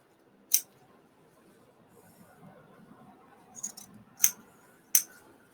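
Scissors snip through fabric for a sewing project, three or four sharp, separate close cuts spaced over a few seconds against a quiet background.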